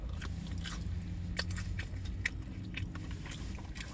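Close-up crunchy biting and chewing of a Naked Chicken Chalupa, a few sharp crisp crunches standing out over a steady low rumble of background noise.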